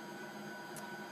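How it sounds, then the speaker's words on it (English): Vacuum pump of a Phenom scanning electron microscope starting up, a steady mechanical hum with faint broadband whirring that holds evenly throughout, close and unaccompanied by talk. "Now the vacuum starts."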